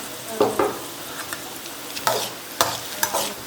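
Onions and cashews frying in a pan are stirred in short scraping bursts, four or five strokes spaced about half a second to a second apart over a steady low sizzle, close and fairly loud with no talking.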